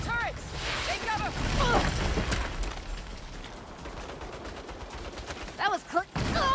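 Turret gunfire rattles through a Saints Row battle. Repeated shots and bursts mix with whooshing water and boat noise, and the firing grows busier near the end as voices call out over the din.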